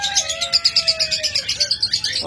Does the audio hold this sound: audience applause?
no